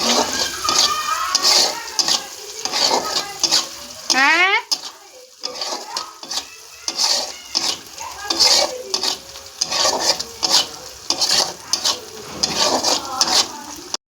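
Green chillies, freshly chopped, sizzle and crackle in a hot pan while being stirred, a steady frying hiss with scraping strokes throughout.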